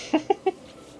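A hen-like alien creature in No Man's Sky gives three short, clucking calls in quick succession, fairly close and clear over a quiet background.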